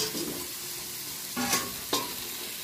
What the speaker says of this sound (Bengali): দিয়ে দিচ্ছি ভেজে রাখা আলু